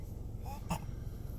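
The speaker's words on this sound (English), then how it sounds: "Good job. That was a burp." A baby gives a single short, soft burp midway through a quiet indoor moment, close to the microphone with a faint brief vocal sound just before it.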